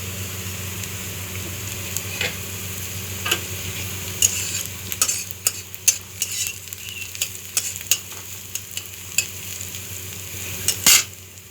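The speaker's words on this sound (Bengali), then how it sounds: "দেখুন বন্ধুরা, পেঁয়াজটা ভাজা হয়ে গেছে।" Onions frying in a pan while being stirred, a steady sizzle punctuated by sharp scrapes and clinks of a utensil against the pan, growing busier toward the end, no talking.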